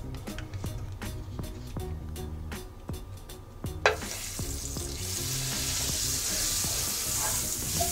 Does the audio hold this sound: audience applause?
no